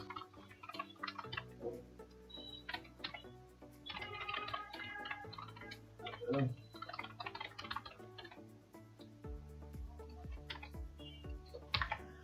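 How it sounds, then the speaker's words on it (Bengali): Keystrokes on a computer keyboard while a MySQL query is entered, an irregular run of light close clicks and taps over a low steady hum, with no talking. "দেন আমি আরেকটা কোয়েরি লিখি, লিখার পরে বুঝিয়ে দিচ্ছি।"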